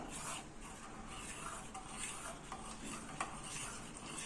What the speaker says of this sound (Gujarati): તેની અંદર આપણે આ રીતે એક ચમચી જેટલું કસ્ટર્ડ પાવડર એડ કરીશું મિક્સ કરીશું